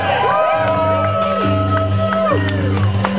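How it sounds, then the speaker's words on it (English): A crowd at the start of a Halloween 10K trail race cheers and shouts close by as the runners set off, with whoops and bursts of voices overlapping in a lively, steady din. "The cheering for these athletes"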